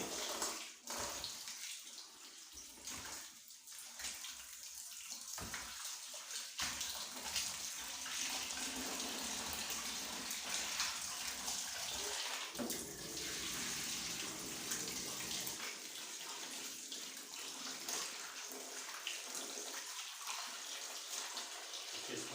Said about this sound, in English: It's good to have running water in the kitchen, so it makes it easier for you to wash the chicken